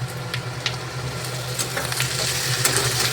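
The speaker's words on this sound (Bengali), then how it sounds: "এরকম করেই ভেজে নিতে হবে এবারে কেটে রাখা কাঁচা লঙ্কাগুলো দিয়ে দেবো এর সাথে দিয়ে দেবো এই আলু" Potatoes and green chillies hit a pan of frying onions, giving a steady close sizzle with occasional sharper crackles and spatters, no voices over it.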